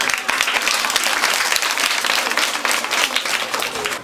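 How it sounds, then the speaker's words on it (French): Audience applause fills a children's award ceremony for a sponsorship program in Togo, a steady dense clapping from a crowd lasting about four seconds without pause. "Applaudissez fort!"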